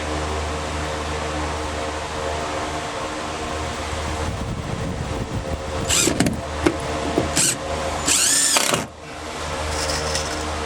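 A small impact wrench drives screws into a new deck on a Sea Ray boat, firing several short, sharp hammering bursts close by over a steady mechanical background hum.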